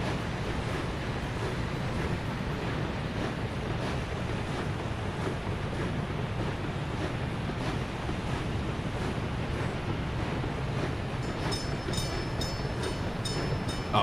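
A crop train rolls along in the city-building game Workers and Resources, giving a continuous rumbling, clattering rail noise with a windy wash, steady and moderately close, with no talking.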